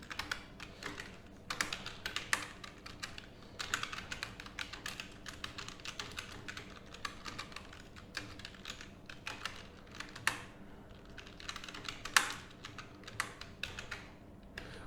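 Steady, close computer-keyboard typing with quick irregular key clicks running throughout, moderately quiet and with no voices, as CSS code is entered.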